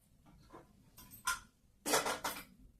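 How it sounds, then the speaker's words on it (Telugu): A metal lid set down onto a steel bowl holding ivy gourd mixed with turmeric, giving a few short clinks and clatters close by, with the last pair louder and ringing, in an otherwise quiet kitchen. "ఇలా మూత పెట్టేసుకుని"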